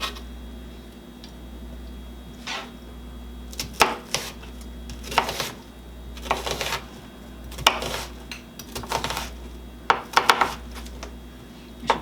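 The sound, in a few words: knife chopping vegetables on a cutting board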